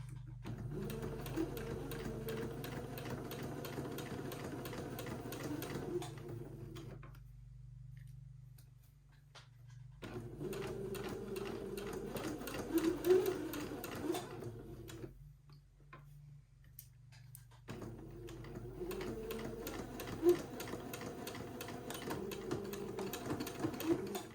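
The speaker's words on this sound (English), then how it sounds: "just sew the entredot to the top shoulder seam" A sewing machine runs close up while sewing a shoulder seam, humming and ticking steadily. It stops twice for a few seconds of near silence, then starts again.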